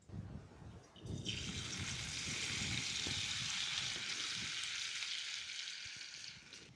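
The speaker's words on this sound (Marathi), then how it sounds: "आता तेल चांगलं गरम झालं की लसूण टाकायचं." Garlic dropped into hot oil for kunjir bhaji bursts into a sudden, continuous close sizzle that holds steady and fades slightly toward the end, with no voices.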